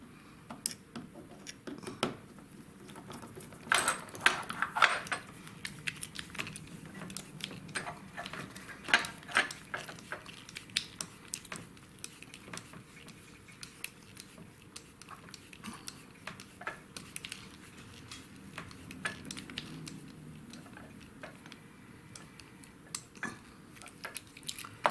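A Schlage deadbolt and its round screw being refitted into a door, heard up close as scattered light metallic ticks, clicks and rubbing handling noises, fairly quiet and irregular throughout, with no talking.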